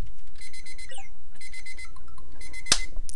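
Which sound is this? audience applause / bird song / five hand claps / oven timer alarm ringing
oven timer alarm ringing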